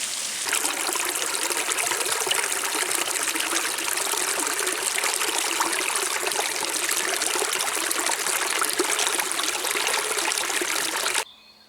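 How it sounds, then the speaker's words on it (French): A fairly large mountain stream with strong flow rushes and trickles steadily, close by and unbroken, then the sound cuts off abruptly at the end. "j'ai un ruisseau un peu plus important, qui a plus de débit"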